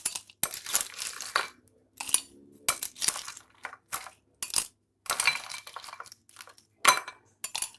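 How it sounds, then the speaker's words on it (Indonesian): Ice cubes drop into a glass for an iced cincau chocolate milk drink, a series of sharp clinks and clatters in irregular bursts, close and dry, with no voices. "Pertama-tama kita masukkan es batunya."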